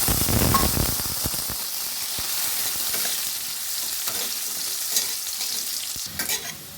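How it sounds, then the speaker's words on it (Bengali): Potatoes frying in oil in a wok, a strong hissing sizzle with stirring scrapes and occasional utensil knocks, louder at the start and settling into a steadier crackle, no voices. "ওই তেলে আলুগুলো ভেজে নেব"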